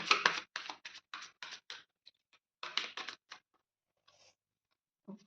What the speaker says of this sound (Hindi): कार्ड्स मेरे क्यों इधर उधर गिर रहे हैं बहुत ज़्यादा